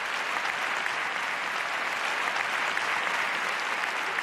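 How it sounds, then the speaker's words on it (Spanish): Concert audience applauding the band at a tribute show, a sustained, dense roar of clapping from a large crowd, even and unbroken throughout. "un aplauso para mi querida banda"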